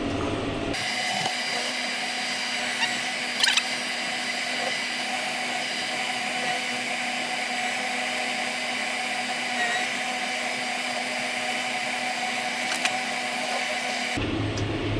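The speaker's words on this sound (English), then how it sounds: "We'll shove the flail across now as far as it'll go." A tractor-mounted front flail mower cuts through overgrown hedge scrub with a steady, continuous whine and roar that holds at an even level for about fourteen seconds, with a couple of brief knocks.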